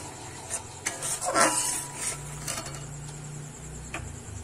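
Masala for raw banana kofta curry is stir-fried in a pan over a raised flame: a faint sizzle under clinking, scraping spoon strokes against the metal, close by.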